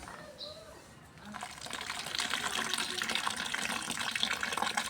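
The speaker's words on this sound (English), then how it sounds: "Now we're just going to add a little water." Water is poured into a mix of cement and paint, a steady trickling, filling stream that rises after a quieter start and keeps running to the end.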